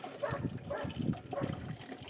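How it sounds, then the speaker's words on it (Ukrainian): Water gushes and splashes in uneven surges, pouring close by into a sprayer tank with a hollow, gurgling quality. "Лиєте воду."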